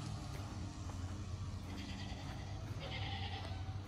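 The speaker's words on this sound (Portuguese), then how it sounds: "Olha o barulhinho. As ovelhas." Sheep bleating at a ranch pen in a park, faint calls over a steady bed of outdoor noise and low rumble.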